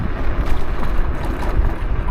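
Steady, loud wind buffeting a rider on a Segway GT1 scooter, with broad low rumble throughout, gusting slightly without pause.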